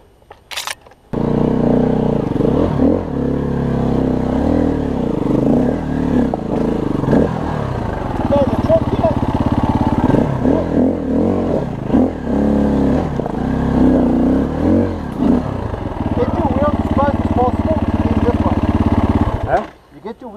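A motorcycle engine is opened up on the throttle during an off-road riding lesson, a loud, close, continuous roar that rises and falls for most of the clip before cutting out near the end.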